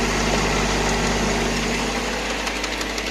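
A tractor-driven digger runs steadily at about 2000 rpm, a loud, continuous engine drone with constant mechanical vibration and no talk.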